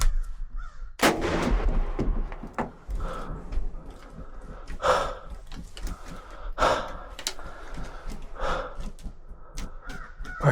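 A single loud gunshot fired at a wild turkey during a solo hunt cracks out near the start, followed by repeated crow-like calls and rustling outdoors.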